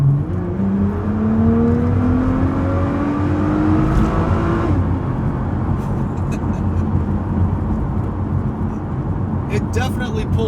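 A Nissan GT-R with a freshly fitted aftermarket exhaust revs and accelerates close by, its engine note climbing steadily for several seconds before dropping off into a sustained whooshing drone.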